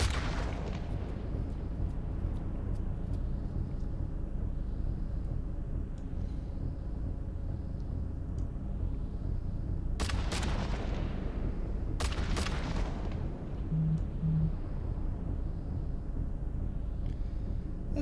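Medium artillery turrets fire aboard a ship in the Eve Online space game, two loud booming volleys spaced a couple of seconds apart over a steady engine-like drone.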